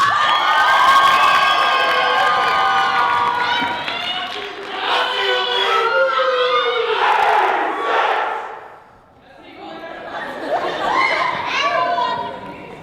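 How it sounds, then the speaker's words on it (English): A comedy-club audience cheers and claps as a comedian takes the stage, loud shouting and whooping voices rising in waves, dipping briefly before surging again. "please give a round of applause for Amin Fernandez"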